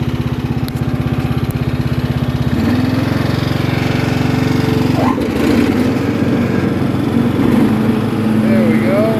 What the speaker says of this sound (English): I'm down here at my local intersection